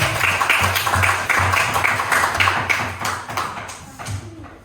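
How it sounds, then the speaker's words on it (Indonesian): A classroom audience of students applauds a student group with a short burst of loose, uneven hand claps that fade out toward the end, close and fairly loud. "Tepuk tangan untuk kelompok 3 yang tadi baca Mati."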